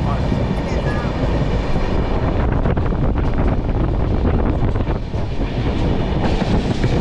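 Tamil Kasi Sangam Express passenger train on the Perambur to Varanasi run, heard from on board as a loud, steady rumble of wheels and carriage with wind buffeting throughout.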